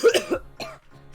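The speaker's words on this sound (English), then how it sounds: "I started coughing because I made that noise." A person coughs several times in a quick burst, close and fairly loud, with a couple of fainter throat-clearing coughs trailing after.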